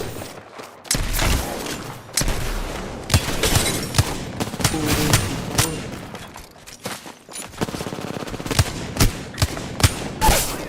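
Video game gunfire, repeated sharp shots and short bursts scattered irregularly across the stretch at moderate loudness.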